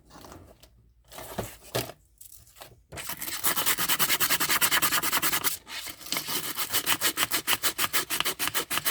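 A ceramic resin pumpkin being sanded by hand: a few short scratchy strokes at first, then a long run of fast, rhythmic back-and-forth rasping, loud and close.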